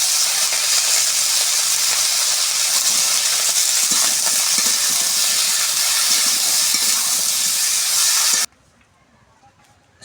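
Vegetables seasoned with salt and turmeric fry in hot oil, giving a loud, steady, close sizzle and hiss that holds evenly for about eight seconds before cutting off abruptly.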